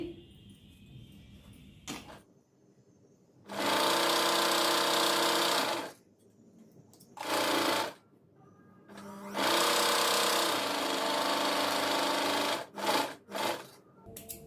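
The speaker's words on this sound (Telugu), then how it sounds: "ఇంకొక హ్యాండ్ కూడా స్టిచ్ చేసేసుకోండి" A sewing machine stitching blouse sleeves, running in loud close bursts of steady whirring and clatter, two longer runs and one short one with quiet pauses between, ending in a few brief stitches.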